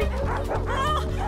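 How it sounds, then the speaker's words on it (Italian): Dogs bark and whimper in a quick burst of yips and whines, close and fairly loud over a steady low background hum. "Oh no, i miei cani!"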